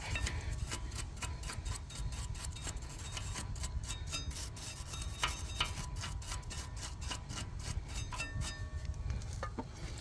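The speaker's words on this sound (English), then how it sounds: "let me get my scrubber brush. Then I get in there, start scrubbing, clean it out" A scrubber brush works over the rear brake assembly of an Acura MDX in fast, steady back-and-forth rasping strokes, close up and continuous, with no talking.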